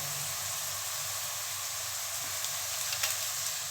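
Eggplant fries in a pan with a constant, even sizzle and hiss, close and moderately loud, and a few faint stirring touches near the end.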